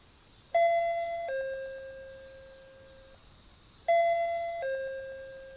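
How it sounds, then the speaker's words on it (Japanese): Two electronic ding-dong doorbell chimes ring at the entrance of a detached house in a PS3 horror adventure game, each a clean two-tone chime that rings out and slowly decays, loud and clear against near silence. "仕方なく何度かチャイムを鳴らした。"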